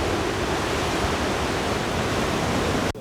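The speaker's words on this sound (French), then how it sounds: "La mer enfiévrée, toujours vent debout" Rough, wind-driven sea surf pounds the shore at Azuretti beach resort, a dense continuous roar of crashing waves up close that cuts off abruptly near the end.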